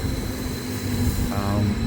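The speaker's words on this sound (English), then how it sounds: "This is the train that I'm taking in the opposite direction." A VR passenger train, formerly branded MTRX, rolls past at a station with a steady low rumble and a sustained tonal hum, growing slightly louder toward the end, with no talk.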